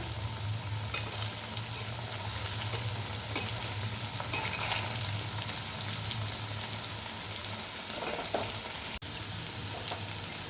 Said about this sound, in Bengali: এভাবে প্রত্যেকটা বল আমি ভেজে নিই।